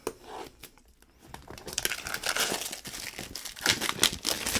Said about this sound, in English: peel this open here.